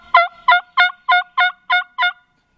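A wild turkey gobbles outdoors in a quick run of seven sharp, evenly spaced calls, clear and fairly close, with near silence around them.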